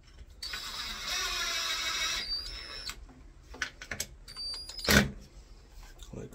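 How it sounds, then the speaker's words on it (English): A light switch mount being screwed to the wall: a whirring power-driver burst up front, then scattered clicks, knocks and a sharp clack, close by with no speech. "I'll just simply screw this to the wall."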